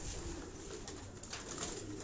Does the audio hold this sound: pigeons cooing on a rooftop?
yes